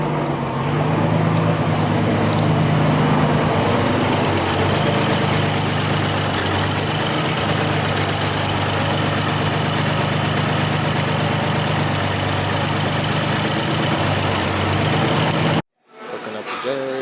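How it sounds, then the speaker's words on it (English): A portable generator runs steadily and loudly close by, set up for work on a broken single-turbo BMW 335i. It drones without a break for about fifteen seconds, then cuts out briefly before starting up again. "Hooking up the generator."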